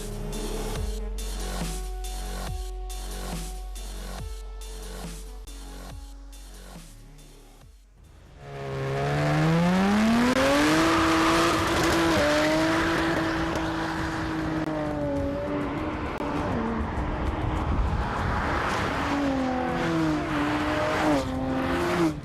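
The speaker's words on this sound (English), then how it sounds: "a compressor ventilated 5-liter V8 engine" A powerful compressor-fed 5-liter V8 supercar engine roars and revs hard, rising and falling in pitch as the car races past close by, loud and continuous after a rhythmic mechanical intro.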